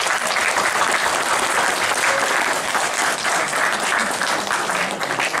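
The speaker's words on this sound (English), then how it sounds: "Please have a round of applause again." Audience applause at a university event for MBA students, a dense, even wash of clapping from a large crowd holding steady throughout.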